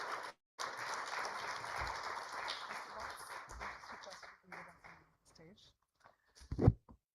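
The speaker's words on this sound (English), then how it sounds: "let that applause continue as we express our gratitude to Mr. Sudhanshu Vats" Applause from a conference audience at an Indian tech event, dense steady clapping for several seconds that thins out and breaks up toward the end, with a brief louder burst near the close.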